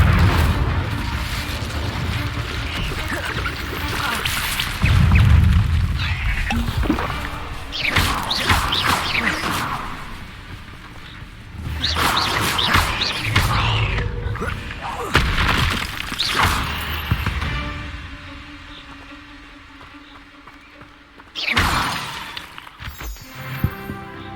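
Fiery spell blasts in Hogwarts Legacy, with repeated booming whooshes and crashing impacts over a rumbling game soundscape and occasional sharp hits.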